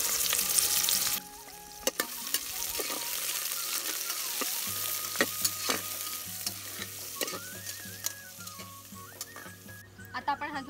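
Onion and garlic sauté in oil in a pan for rajma, with a steady sizzle and occasional stirring clicks and scrapes from a utensil.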